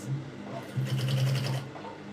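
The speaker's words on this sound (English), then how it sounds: "Can you see the way I'm sewing it?" A sewing machine stitching a peplum bustier blouse, its fast buzzing whir starting up and running for under a second before stopping, close and clear.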